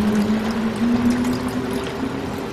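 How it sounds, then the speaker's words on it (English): Tamarind juice is poured steadily into a pot of fish curry made with threadfin fish, a close continuous liquid pouring and splashing sound lasting a few seconds with no talking. "Just pour in the tamarind"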